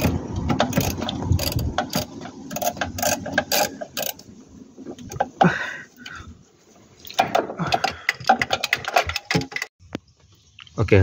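Ratchet clicking in quick bursts while undoing a screw on a Honda Odyssey starter, a close, dense metallic rattle of pawl clicks with a few pauses and handling knocks between them.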